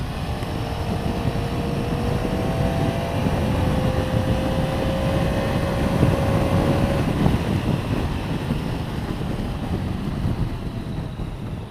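A Triumph Tiger motorcycle engine drones steadily while riding, its tone rising and holding, mixed with heavy wind rush over the microphone throughout, with no talk.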